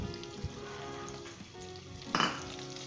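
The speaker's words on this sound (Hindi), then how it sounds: "दोस्तों जैसे आपने तली हुई प्याज गरम ऑयल के अंदर डालना है, तो आपने इसे फ़ौरन से हिलाना है।" Fried onions sizzle in hot vegetable oil in a pan for beef keema, a steady crackling hiss with a few clinks of a spoon stirring and scraping, close up with no talking.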